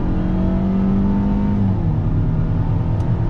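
A 2020 Mercedes-Benz SLC 300 accelerates under throttle in automatic mode, its engine note rising steadily, dropping at a smooth upshift, then climbing again, heard from inside the cabin.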